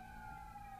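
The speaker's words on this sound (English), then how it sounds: "got lots of police cars going past or something" Police car sirens passing outside sound as a steady, faint wail in the distance, heard only briefly.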